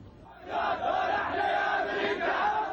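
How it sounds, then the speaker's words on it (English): Crowd of protesters gathered outside the Palestine Hotel in Baghdad, a dense mass of raised voices and chanting that swells after a quieter start and stays loud and continuous. "Each day, crowds gather outside the Palestine Hotel. They come to protest, to denounce Saddam Hussein"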